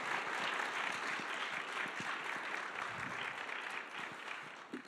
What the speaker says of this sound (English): if we can give Ettore one more round of applause for sharing that story